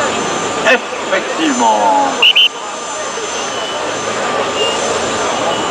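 An Airbus A380 on the runway at the Le Bourget 2011 air show gives a steady, broad jet-engine roar. Someone speaks over it in French, and a few short whistling tones and rising squeals cut through early on.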